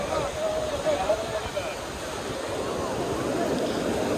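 Surf rolling in at Cox's Bazar beach, a continuous broad wash of waves with wind noise, while someone talks over it through the first part.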